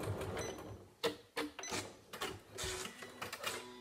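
A sewing machine runs back and forth over elastic while stitching a fabric card holder, giving a close, uneven mechanical whirr broken by sharp clicks and short bursts as the stitching reverses.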